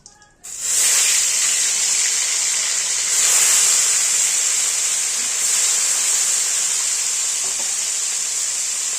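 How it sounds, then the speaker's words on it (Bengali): Parshe fish pieces go one by one into hot oil in a wok, setting off a loud, steady sizzling hiss that starts abruptly and holds strong throughout, with slight swells as more pieces are added. "কড়াতে তেল দিয়ে আমরা একে একে মাছগুলো ছেড়ে দেবো"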